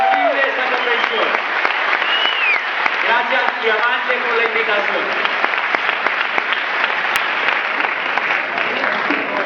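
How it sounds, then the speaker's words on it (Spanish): Audience at a business convention applauding loudly and continuously throughout, with a voice speaking over the clapping near the start. "Nuestro gran aplauso esta noche por hacer posible esta convención."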